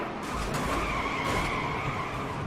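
A race car brakes hard in NASCAR Heat 3, tires skidding and squealing for over two seconds over a low engine rumble, loud and close with no speech.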